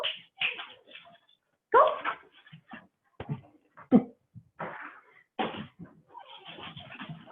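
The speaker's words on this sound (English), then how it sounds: "So my dogs are gonna decide to play right now." Dogs playing make yips, whimpers and short growly barks in scattered bursts, fairly close, with brief pauses between outbursts.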